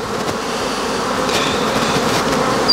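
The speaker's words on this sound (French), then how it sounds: "On peut voir, il y a l'activité à l'entrée des ruches." Honeybees swarm at a beehive entrance during a busy foraging period, a dense, continuous buzzing hum from many insects close by, steady and fairly loud with no voices.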